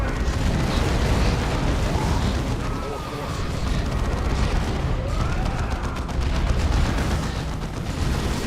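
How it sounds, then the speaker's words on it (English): In the game Dawn of War 2, a melta spray weapon fires as a sustained, roaring blast of rumbling bursts and crackle that runs almost throughout, with speech partly mixed in. "Melta spray."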